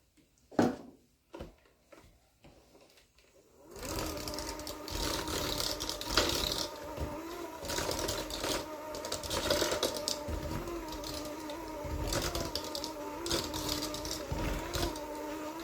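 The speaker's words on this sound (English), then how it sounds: "I don't have my mixer turned all the way up. That's why it sounds like it's struggling." Electric stand mixer running below full speed as it works through thick cookies-and-cream cookie dough, a steady, dense mechanical churn with uneven labored strain that starts after a few seconds of scattered kitchen clatter and continues loud and alone.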